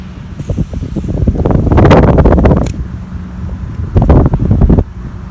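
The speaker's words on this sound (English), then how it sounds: "Wind blowing my line." Wind gusts outdoors during lure fishing, buffeting the microphone with loud, low rumbling bursts that swell and fade over several seconds, with no talking.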